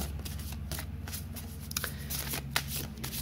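Oracle cards being shuffled for a reading, a close, continuous riffling flutter of card stock with quick slapping edges, heard alone without talk.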